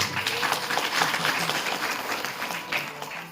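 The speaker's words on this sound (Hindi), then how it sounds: "इनके लिए जोरदार तालियां।" An audience at a village Bhagwat Katha gathering in Salehpur applauds, a continuous patter of clapping that swells early and stays fairly steady through the clip.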